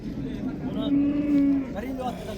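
A bull lows at a cattle market in Qashqadaryo, Uzbekistan: one long, deep moo rising and holding near the middle, close and loud over a murmur of crowd noise.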